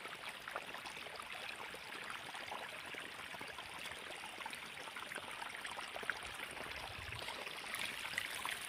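Irrigation water runs steadily into a wheat field, a continuous even rushing and trickling close by with no break in level throughout and no talk.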